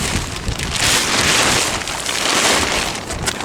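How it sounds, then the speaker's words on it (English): Strong wind buffets an outdoor microphone, a loud, broad rushing roar that swells and eases in gusts over a few seconds, with no voices. "It's pretty windy, I hope it don't blow away today."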